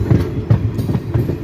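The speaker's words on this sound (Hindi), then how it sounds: "यहाँ पर हमारी ट्रेन क्रॉल कर रही है क्योंकि अभी ये ट्रेन सहारनपुर मेरठ लाइन में स्विच करेगी" A train crawls slowly over a junction onto the Saharanpur–Meerut line, its wheels beating a loud, close, regular clickety-clack with heavy low rumble and no voices.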